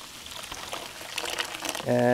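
Hot homemade laundry detergent being poured into a cheap Chinese bucket, a close, splashing trickle with crinkly bits that grows fuller and louder toward the end, while someone talks.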